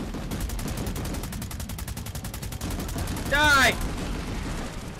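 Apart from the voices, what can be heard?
gunfire in the video game Planetside 2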